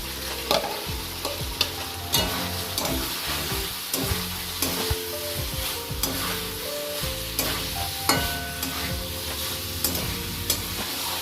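Pre-fried cauliflower stirred in sizzling oil in a pan, a loud continuous crackle broken by frequent scraping and knocking of a spatula, with no talking.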